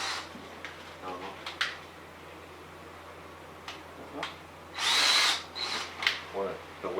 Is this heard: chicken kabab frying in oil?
no